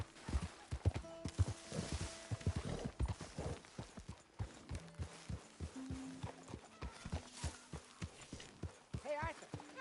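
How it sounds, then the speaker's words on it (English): In the video game Red Dead Redemption 2, a horse's hooves clip-clop in uneven bursts at close range while characters talk over them, with a brief whinny near the end. "get that horse out of here."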